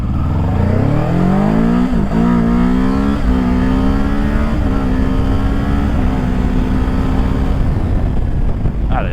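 An electric motorcycle, a black Z model, accelerates hard from 0 to 70 in e-boost mode, its motor whine rising steadily in pitch over about eight seconds and holding loud and close throughout.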